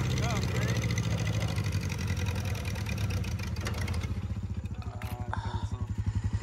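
Small 1950 Farmall Cub tractor engine chugging loudly while driving, a steady low rumble that turns into a distinct pulsing beat toward the end as it slows and stalls, with voices talking over it.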